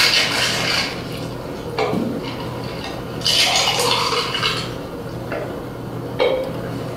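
A Bacardi rum mojito is shaken with ice, giving a steady rattling, sloshing churn at close range with a few sharper knocks, and no talking over it.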